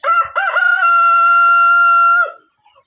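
A nine-month-old adult farm rooster crows once, loud and close, a long sustained call that fades into silence.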